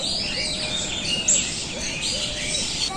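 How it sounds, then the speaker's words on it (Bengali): Birds chirp and tweet steadily in the open morning air of a village, several thin high calls overlapping, with a faint background hum and no talking. "সকালবেলায় পাখির কিচির মিশ্রি ডাক শোনা যাচ্ছে"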